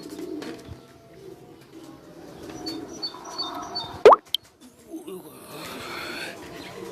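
Several pigeons settle on a rooftop, with soft wingbeats and faint coos over outdoor background noise, plus a sharp loud flap or knock about two-thirds through.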